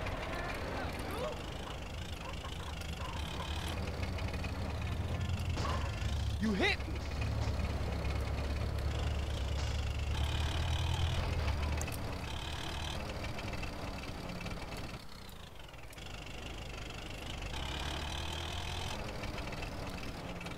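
A tractor engine idles in GTA San Andreas, a continuous low mechanical chug with some rises and dips, while someone talks over it.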